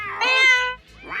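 House cats meow close by, one long, clear, rising-and-falling meow followed by the start of a second call.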